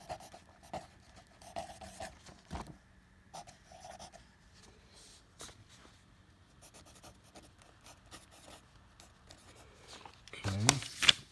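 A pencil scratches out a name and number on workbook pages in short, faint bursts of writing, scattered through a quiet room with a voice speaking softly at moments.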